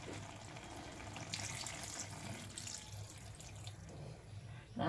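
Water pours into a pan of cooking greens, a faint, steady splashing trickle lasting several seconds, close and quiet, with no voices.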